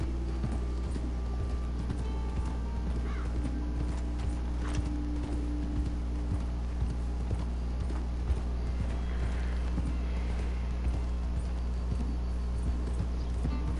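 Horse riding in the video game Red Dead Redemption 2, with steady rhythmic clip-clop hoofbeats and tack jingling over a low rumble, continuous and fairly close.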